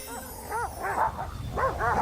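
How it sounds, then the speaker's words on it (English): Several fenced dogs bark and yelp in quick, bouncing bursts at moderate distance, a steady string of barks for about two seconds. "Quite safe, gentlemen. The dogs are fenced."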